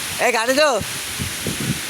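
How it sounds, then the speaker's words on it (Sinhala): Heavy rain hisses steadily in the background while a person flying kites talks loudly over it, the downpour continuing evenly underneath. "පක්ක විදිහට වහින්නේ."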